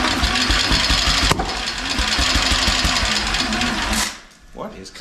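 A mini radial engine runs loud and rough with a fast, dense rattling throb for about four seconds, then cuts out abruptly into near quiet, followed by a brief faint sound.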